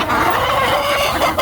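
Native hens and chickens clucking nearby in a dense, continuous chatter of short calls, loud and unbroken, with no talking.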